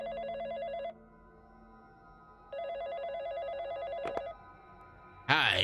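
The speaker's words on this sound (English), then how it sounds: "Phone's ringing." A telephone rings in the Andy & Leyley video game, two electronic bursts of trilling tone separated by a pause, with a brief sharp click before a final rising chime at the end.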